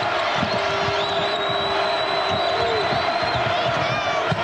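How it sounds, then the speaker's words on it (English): Arena crowd at a 2001 college basketball game, Missouri Tigers at Iowa State Cyclones, roars steadily throughout, with sneaker squeaks and ball bounces scattered underneath. "Crowd reawakened, back into it."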